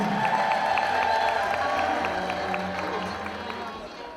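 At a church gathering, a congregation ululates for a priest being called to the stage, a dense sustained trilling chorus with crowd noise that fades slightly toward the end.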